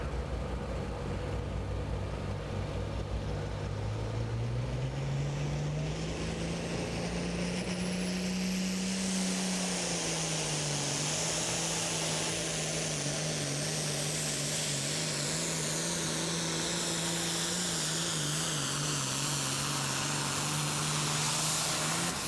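A John Deere 7810 farm tractor roars at a tractor pull, its engine droning loud and steady with rising and falling pitch as it revs under load, the whine persisting throughout.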